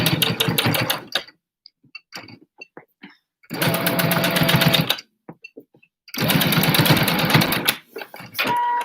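A regular home sewing machine stitches a batwing-pattern fabric face mask in three loud, rapid bursts of needle chatter, separated by short pauses filled with small clicks and fabric handling.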